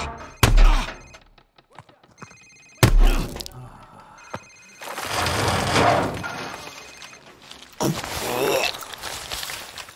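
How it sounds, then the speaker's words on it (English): A cell phone rings in the Call of Duty 4 campaign, its ring tones mixed with heavy thuds, footsteps and speech. "Sir, it's his cell phone."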